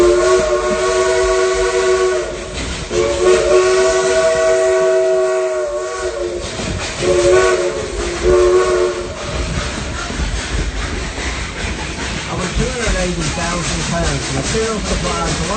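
A steam locomotive whistle on the Dollywood Express sounds loud, long tones rising and breaking in a tune-like pattern, then gives way to rumbling train noise and chuffing.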